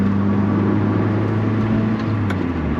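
A 2005 Lotus Elise cruising in traffic gives a steady, droning engine hum and road noise from inside the cabin, unchanging throughout.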